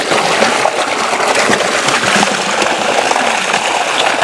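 Watermelons on a farm being washed in water, with continuous splashing and trickling up close as fruit is moved through it; busy and fairly loud, with no clear speech.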